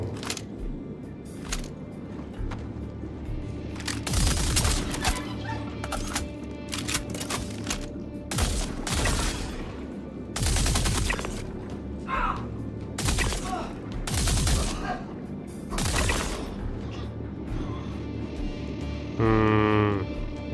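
Sustained gunfire from a low-recoil, overheating gun in Star Citizen: dense, rapid bursts of loud cracking shots fill the whole stretch, with brief pauses between volleys and a rising whine near the end.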